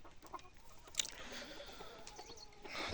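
Kadaknath desi hens range free on a natural poultry farm, giving faint, scattered clucks and a brief sharper call in the distance over quiet outdoor ambience.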